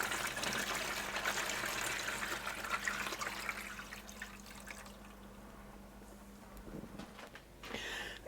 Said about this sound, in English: And here's the water.